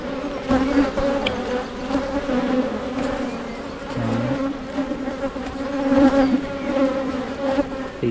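Honeybees buzz steadily around an open hive during a brood box inspection, a dense continuous drone close up with no voices.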